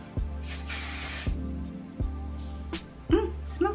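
Short hissing bursts of a hair spray can, close up, repeated several times with brief pauses and some handling clatter between them.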